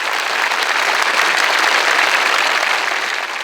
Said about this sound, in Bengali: আসুন সবাই মিলে তাদের জন্য একটি সজোরে করতালি দেই